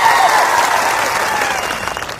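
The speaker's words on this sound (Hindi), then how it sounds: "एक बार जोरदार आपके लिए तालियां बजा दी जाए" A crowd at a Vishwa Adivasi Diwas speech gathering in Dungarpur claps loudly, a thick burst of applause that slowly tapers, with a voice faintly underneath.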